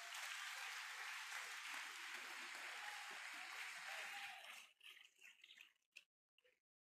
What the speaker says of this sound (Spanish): Dele un aplauso al Señor. Fuerte el aplauso.